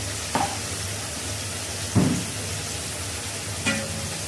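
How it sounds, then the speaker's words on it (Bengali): Fish head seasoned with turmeric, coriander and cumin frying in oil, giving a steady low sizzle with three brief louder spatters or stirring knocks spaced about 1.5 seconds apart, close by with no talk. "এখন তেলের উপরে ভেজে নেব"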